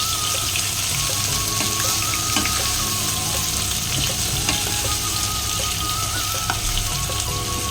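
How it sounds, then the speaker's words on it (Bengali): Prawns fry lightly in mustard oil in a pan, making a loud, continuous close-up sizzle and spatter with small crackling pops, with no one speaking. "এবারে প্রনগুলোকে আগে ফ্রাই করে নেবো হালকা করে।"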